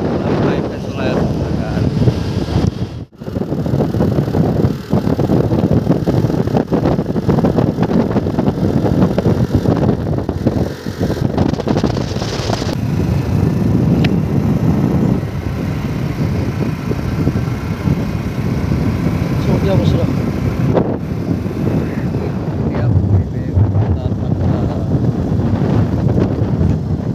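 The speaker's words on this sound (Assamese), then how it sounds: "বঢ়িয়া ৰাস্তা বাইক চলাই আছোঁ" A motorbike riding along a good rural road, heavy continuous wind buffeting and engine rumble throughout, with someone talking over the roar.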